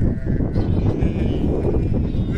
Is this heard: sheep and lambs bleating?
yes